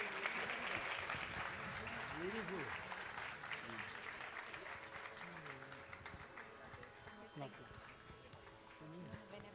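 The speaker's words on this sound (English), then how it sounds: "Can we have a louder round of applause, please?" Audience applause at a Hindustani bansuri concert, a steady, even wash of clapping that runs throughout, with a voice speaking over it.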